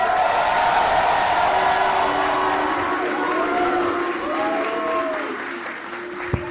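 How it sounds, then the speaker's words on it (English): A crowd at a stand-up comedy show applauds and cheers for comedian Bruce Greene, loud continuous clapping that holds for several seconds with a few voices calling out over it. "Please start clapping right now for a dear friend of mine and an amazing human being, Bruce Greene"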